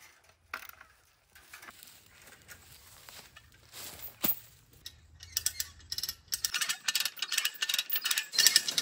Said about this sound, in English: Oh, struggling with the come along.